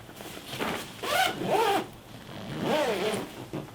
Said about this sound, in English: I take my packing bags and I zip the zipper